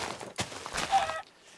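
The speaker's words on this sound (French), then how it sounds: "Ouah, Un poulet, il y a plein de poulets." Chickens cluck in a Minecraft farm scene, a few short, scratchy clucks in quick succession, close and moderately loud, with no talking over them.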